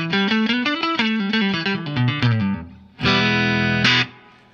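Electric guitar through a CULT OD-820 overdrive pedal into the normal channel of a Vox AC30 amp, playing a loud driven melodic run, then a sustained ringing chord that stops abruptly.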